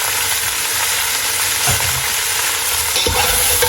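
Garlic and ginger sizzle steadily in a hot pan, with a spoon stirring through them and scraping in a few short bursts, close and continuous with no talk.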